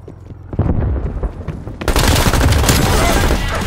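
Rapid machine gun fire from a hostile sentry turret in the video game Call of Duty: Black Ops Cold War, sparse shots at first, then a loud, continuous dense burst of gunfire.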